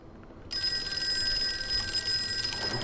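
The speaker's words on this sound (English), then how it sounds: "A phone! Of course, old-timey phone." An old-fashioned telephone bell rings continuously inside the Call of Cthulhu video game, a steady bright trill that starts abruptly after a short quiet lead-in and keeps going at even loudness.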